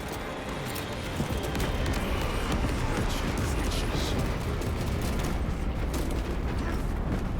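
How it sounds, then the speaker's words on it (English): A video game airstrike unleashes a dense, roaring rumble of explosions that stays loud and continuous throughout, with scattered crackling debris over the deep booming. "Airstrike incoming!"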